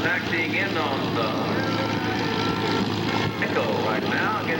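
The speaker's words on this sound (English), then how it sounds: "It is North American C-51 Mustang, one of several C-51s that are here today." A North American P-51 Mustang propeller plane taxiing at an air show, its steady engine drone filling the clip at close range with a continuous low hum and crowd or voices faintly underneath.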